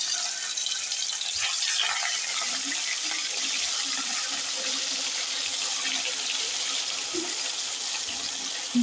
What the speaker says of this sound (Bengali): নুন হলুদ মাখানো মাছগুলো আমি তেলের মধ্যে ছেড়ে দিলাম।